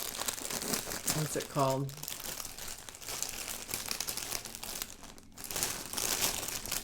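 Plastic packaging around skeins of Himalaya Air Wool yarn crinkles and crackles steadily close to the microphone, running beneath a voice as she talks.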